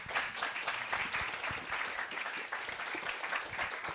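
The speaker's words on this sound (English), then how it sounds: "give a big round of applause to all of the panelists" An audience applauds panelists in a tent after an environmental panel discussion, a dense steady patter of many hands clapping that holds loud and continuous throughout.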